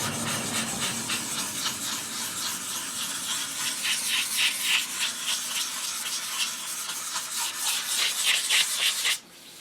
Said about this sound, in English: And you sand it down and keep going.